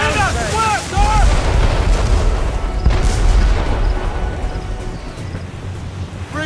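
Ship cannons firing in a naval battle in Assassin's Creed Rogue, heavy booms and blasts close and loud amid roaring wind and battle noise, with shouted crew voices over the din.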